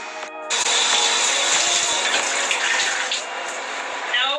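Tap water running steadily and loudly into a kitchen sink while hair is washed, a continuous close splashing gush after a brief quieter moment at the start.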